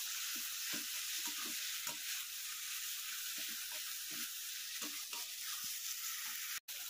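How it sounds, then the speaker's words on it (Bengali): Spice paste with chopped tomato frying in a pan, a constant bright sizzle broken by repeated scraping stir strokes at an uneven pace, close by, with a sudden brief dropout near the end. "এবার টমেটো কুচিটা দিয়ে দিলাম। এবার ভালো করে মশলাটাকে কষিয়ে দিতে হবে।"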